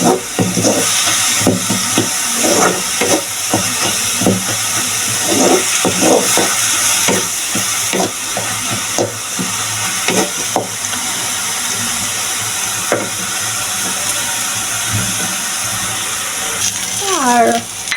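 Red amaranth greens cook in a pan with a steady, close hiss of frying and intermittent scraping or stirring knocks throughout.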